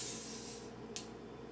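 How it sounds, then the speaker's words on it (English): A homemade beer bottle fizzes open with a soft hiss that fades over half a second, then a brief sharp puff of gas, quiet and close with no talking. "but there was some fizz"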